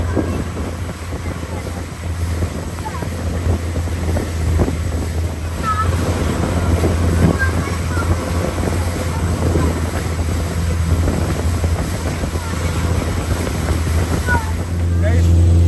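A private tour boat's engine running at sea off Phuket, Thailand, a loud steady low drone with wind buffeting the microphone and splashing water throughout, with voices faintly mixed in.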